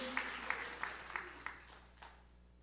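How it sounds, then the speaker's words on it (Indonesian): A church congregation claps during a worship service, faint and fairly evenly paced hand claps sounding over a quiet, reverberant hall. "Sorak-sorai tepuk tangan yang paling meriah"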